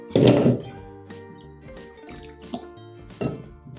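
Drumsticks (moringa pods) are rubbed and swished by hand in water, with three sloshing splashes separated by quieter drips and knocks.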